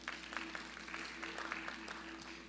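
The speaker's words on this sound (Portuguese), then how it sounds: "Aplauda o Fernando aí." Brief, faint applause from a church congregation clapping for a participant, a scattered patter of hands heard at a distance for a couple of seconds.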